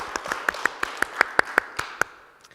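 Audience at a Contributor Experience SIG conference talk giving brief applause, about a dozen distinct sharp claps in an uneven rhythm, close and moderately loud, tapering off after two seconds.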